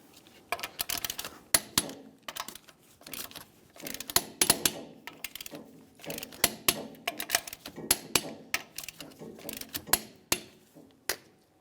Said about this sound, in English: let's torque these in a crisscross manner